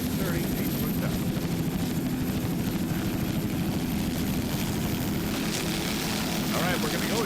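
A 38-foot offshore racing powerboat with two 700-horsepower Mercury inboard engines roars at a race off West Palm Beach in 1999, a constant loud engine drone with a commentator talking over it.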